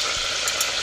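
Sausages fry in a hot pan, a dense, steady sizzle close up with faint scraping as they are turned.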